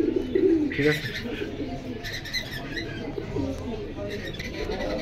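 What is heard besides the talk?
pigeons cooing at a market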